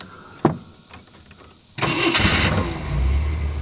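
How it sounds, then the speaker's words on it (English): An old Jeep's engine starts after a loud clunk and some quiet clicks and shuffling. The cranking catches abruptly into a loud, rough idle that keeps running steadily to the end, with no talk. "So let's climb aboard, start it up."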